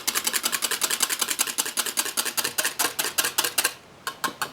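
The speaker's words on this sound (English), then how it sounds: "Now you're going to take your whisk and whisk your egg yolk in with your beer." A wire whisk beats egg yolk into beer in a bowl, tapping quickly and evenly in a close, crisp rhythm of rapid clicks, briefly pausing near the end before a few final strokes.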